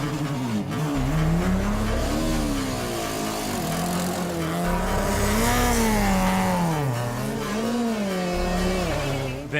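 A Lancia rally car races hard, its engine revving up and down through gear changes with a loud, close, continuous wail, with occasional tire noise and no voices.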